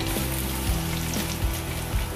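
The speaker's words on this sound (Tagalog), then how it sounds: "Maglalagay lang tayo ng mantika dahil tayo magigisa na" Minced garlic, five cloves, sautéing in hot cooking oil for mung bean stew, giving a steady close sizzle with faint crackles throughout and no voices.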